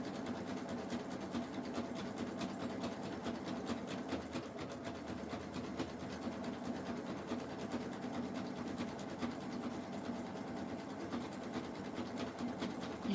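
A sewing machine runs steadily, stitching strips of jelly roll fabric for a rug; a continuous, fairly quiet mechanical whir with rapid needle ticking and no speech.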